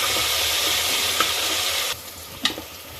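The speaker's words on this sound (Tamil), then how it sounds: "இஞ்சி பூண்டு பச்சை வாசனை போகிற வரைக்கும் நல்லா வணக்கி கொடுங்க." Onions with ginger-garlic paste sauté in a hot pan, a steady close sizzle and frying hiss throughout with a couple of brief stirring scrapes near the end.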